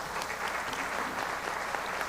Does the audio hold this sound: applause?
yes